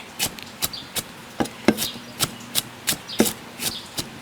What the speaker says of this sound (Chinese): 拍点蒜， 把这个给它切碎